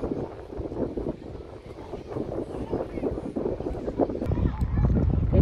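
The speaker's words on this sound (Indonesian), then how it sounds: "Jadi anginnya lumayan kencang ya." Strong wind buffets a phone's rear camera microphone outdoors, a continuous low rumbling roar that swells louder toward the end, with a voice talking over it.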